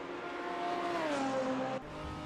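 A BMW race car's engine drones steadily in an ATCC sim race at Adelaide, a sustained onboard tone whose pitch falls as it lifts off, then cuts abruptly to a lower note.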